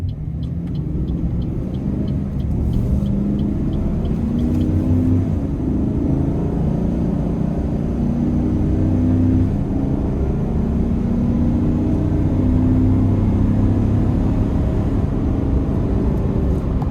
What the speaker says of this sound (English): just kind of wanted you to hear the engine, how it gets up